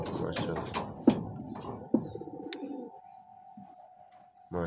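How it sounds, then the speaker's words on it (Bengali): Domestic pigeon nesting on its eggs gives soft coos and a few short bird calls, close by, after a stretch of nearby talk, with a steady hum underneath. "আর এদিকে একটা আছে কবুতর ডিম নিয়ে বসে আছে"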